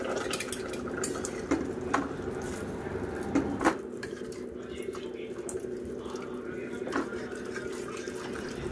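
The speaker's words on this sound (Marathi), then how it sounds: "मिक्स करून घेतल्याच्या नंतर त्याच्यामध्ये गरम पाणी टाकून द्यायचं" Quiet kitchen sounds of hot water being poured and stirred into a pot of prawn curry, with soft clinks of a utensil against metal now and then.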